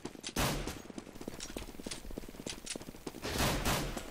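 P250 pistol fire in a Counter-Strike match: rapid, crackling bursts of shots and clicks layered over busy game noise, with no talking.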